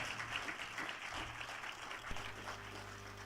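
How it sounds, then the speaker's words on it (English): Applause from the audience at an alumni event, fairly soft and steady for a few seconds, with a low hum running underneath and a sharp knock near the end. "Give them a round of applause, please"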